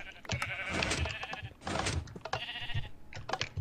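Sheep bleating in Minecraft: several short, wavering bleats in quick succession, close and fairly loud, with brief gaps between calls and no talking over them.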